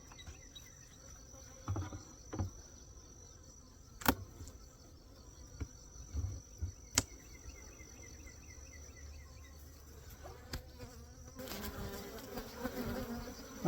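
Agitated honey bees in an opened hive give off a steady, close buzzing drone that runs the whole time, broken by a few sharp knocks and thumps from handling the hive.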